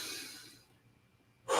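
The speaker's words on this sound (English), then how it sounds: "is learn how to belly breathe." A deep belly breath used as a calming technique for athletes, heard as a long soft breathy exhale that fades out, followed by a sharp brief intake of air at the end, close and quiet with no talking.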